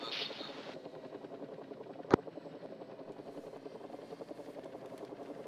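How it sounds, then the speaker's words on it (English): A helicopter flying low in the military game Arma 3, its rotor chop a steady rhythmic thrum throughout, fairly faint and distant, with one sharp loud crack partway through. "Helicopter's coming in low just to the southwest of us."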